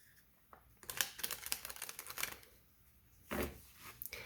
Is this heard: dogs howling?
no